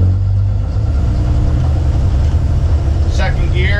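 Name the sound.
Dodge Ram Cummins truck pulling away from a stop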